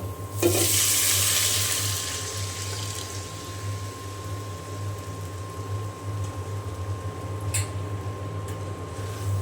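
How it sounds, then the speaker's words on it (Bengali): A hot tempering of fried garlic and onion is poured into thin red-lentil dal, setting off a sudden loud hissing sizzle that bursts up and then slowly fades into a low, steady bubbling simmer, with a light clink later on. "এখন আমি বাগারটা দিয়ে দেব"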